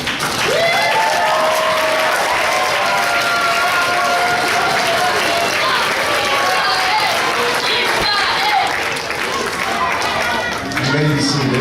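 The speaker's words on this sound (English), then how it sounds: "Please, everybody stand up. Takum, and applaud." A standing audience at a Yom HaAtzma'ut celebration in a Hebrew day school applauds steadily and loudly for about eleven seconds, with a sustained musical tone running beneath the dense clapping and some voices mixed in.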